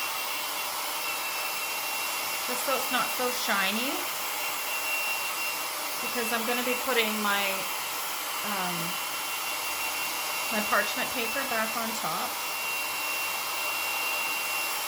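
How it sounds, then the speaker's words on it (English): A blow dryer whirs steadily, drying ink on a buffalo plaid throw pillow, a constant airy hum running beneath someone talking intermittently. "I'm just going to dry this a little bit with my blow dryer again"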